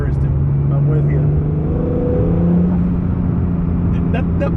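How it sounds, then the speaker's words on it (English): Acura NSX with a turbocharged engine and all-wheel drive, heard from inside the cabin as a steady, loud engine drone with a rising tone, the blow-off valve sitting right behind the driver's head, while people talk over it. "That blow off valve's got to be right behind my head."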